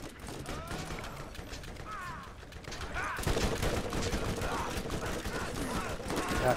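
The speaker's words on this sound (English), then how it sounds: "Got two motherfuckers shooting at me." Enemy gunfire in the shooter video game Borderlands crackles in dense, rapid bursts that grow louder and busier midway, with a voice talking over the clattering shots.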